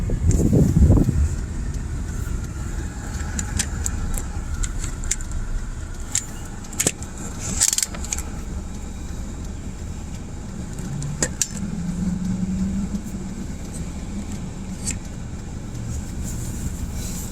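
A car driving on a road gives a steady low engine and road hum from inside, with occasional clicks and rattles and a brief louder thump near the start.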